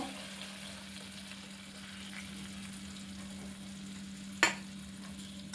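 Masala sizzles steadily as it is sautéed in a pan, a soft continuous frying hiss with faint stirring scrapes and one sharp clack of the spoon near the end.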